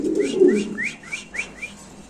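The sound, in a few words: male Beauty pigeon cooing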